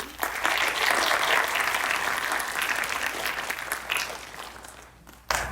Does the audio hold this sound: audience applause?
yes